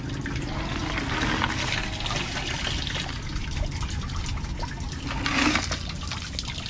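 Water being poured out of a radiator spare tank after rinsing, a continuous splashing, gurgling flow that swells near the end, close and without speech.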